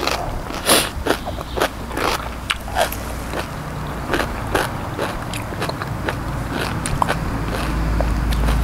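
Raw beef liver from a young calf being chewed up close, with wet repeated bites and crunchy, slurping mastication in an irregular rhythm over a faint background rumble, no talking.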